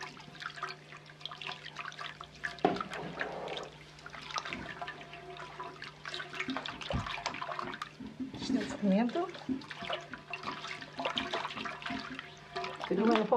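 Salted water poured into flour for bread dough in a home kitchen, a soft liquid trickle and splashing heard in bursts beneath ongoing talk and kitchen clatter.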